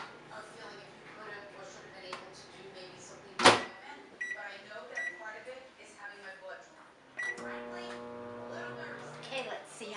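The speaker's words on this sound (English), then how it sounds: "we're going to be ready to put this in the microwave" A microwave oven hums steadily while a cake mix bakes inside, its drone broken by a loud click near the start and later by faint clatter. Talk sits over the running oven.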